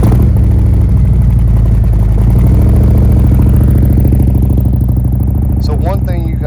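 A Harley Road Glide motorcycle fitted with a Khrome Werks exhaust rumbles loud and close with a deep, pulsing engine note, while a voice talks over it toward the end.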